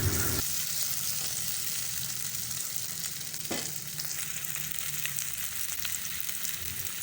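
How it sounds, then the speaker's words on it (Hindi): Potatoes for a Spanish omelette fry in a pan with a loud, dense, continuous sizzle, close up and steady throughout, with a brief scrape of stirring partway through. "आलू जो हमारे हैं वो फ्राई हो रहे हैं।"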